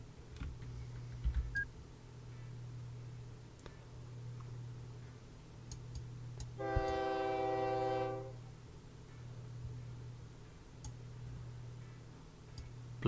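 A train in the OpenTTD video game, heard as a steady low engine hum with faint ticking, then a brief harmonic horn-like tone for about a second and a half midway before the drone continues alone.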